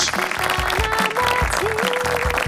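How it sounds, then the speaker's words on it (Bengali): A large audience applauds at a televised talent show grand finale, dense clapping throughout at close range, with music playing along underneath. "আমরা সবাই জোরে একটা করতালি দেই once again for Raj"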